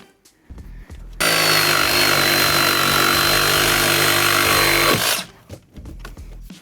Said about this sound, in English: I'm gonna literally cut through the floor and then cut through the cross member